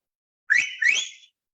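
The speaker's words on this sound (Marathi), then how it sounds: "हा तर ही जी शिट्टी आहे ती माणसाची शिट्टी झाली, नाही का." A human whistle made by folding the tongue and blowing hard: two sharp, close, rising shrill notes in quick succession, heard alone against silence.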